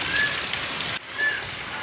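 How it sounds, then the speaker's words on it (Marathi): Steady heavy unseasonal rain pours down, a dense broadband hiss with a brief dip midway before the downpour resumes at full strength. "तर मंडळी आपल्याकडं भरपूर पाऊस पडू राहिला आहे"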